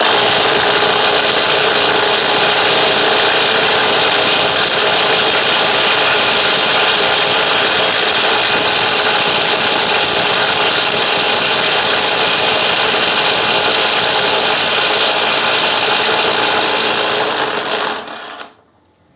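A Bosch GDS 18V-400 cordless impact wrench set to 600 Nm runs in one long, loud, steady high-pitched whir, then winds down and stops at the end.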